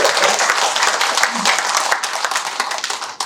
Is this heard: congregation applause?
yes